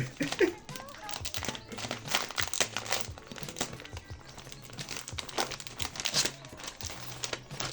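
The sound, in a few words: tearing open a Minecraft collector card pack wrapper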